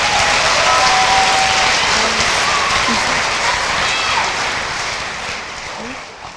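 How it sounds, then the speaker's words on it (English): An audience at an eighth-grade graduation ceremony applauds a class, a thick, close wall of clapping that stays loud and even, then gradually thins and fades toward the end. "A round of applause for Mr. Shipper's class."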